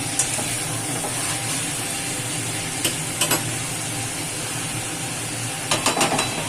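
Continuous loud sizzling and hissing of potatoes frying in oil, with a few brief clinks of stirring near the middle and end.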